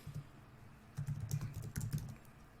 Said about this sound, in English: we would just type in our October newsletter campaign